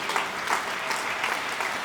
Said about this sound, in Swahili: Mpigie Roho Mtakatifu wa Mungu makofi.